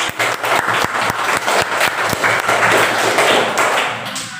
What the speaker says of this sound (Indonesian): Bapak minta tepuk tangan untuk semuanya